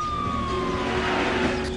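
A police car siren wails over steady traffic and engine rumble, loud and close, in a dramatic television scene.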